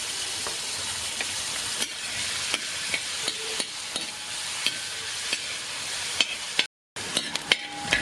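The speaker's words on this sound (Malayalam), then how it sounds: "തേങ്ങാക്കൊത്തൊന്ന് വറുത്തെടുക്കാം." Coconut pieces fry in hot ghee with a constant bright sizzle, punctuated by sharp clicks and scrapes of stirring against the pan and a brief break near the end.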